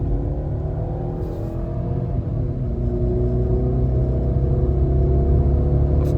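Engine of a 2006 Mercedes C230 Kompressor, a supercharged 1.8-litre sedan, pulling steadily on a test drive, a close continuous drone rising gradually in pitch under cabin rumble, with no talk.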